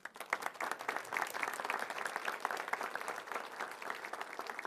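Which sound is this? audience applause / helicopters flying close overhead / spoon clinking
audience applause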